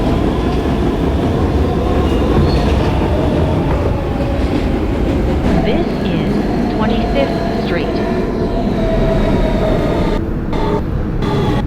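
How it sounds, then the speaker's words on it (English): An R160B Siemens W subway train running on the D line toward Bay Parkway in New York rumbles loudly and steadily with rail clatter and squeals, heard from inside the car, with a recorded voice announcement over it. "This is a Bay Parkway bound W train via the D line."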